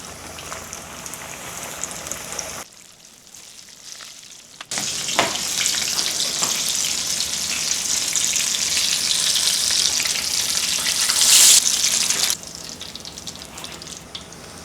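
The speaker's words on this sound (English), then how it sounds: "the second you put it in, it starts bubbling around the edges like it's doing now" Loud, crackling sizzle of chicken frying in hot oil, dipping quiet for a couple of seconds, then bursting back stronger and holding steady.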